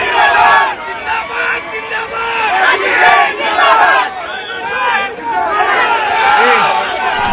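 Dense crowd shouting and chanting slogans at a public gathering after an election win, a loud continuous babble of many voices with rhythmic swells through the whole stretch.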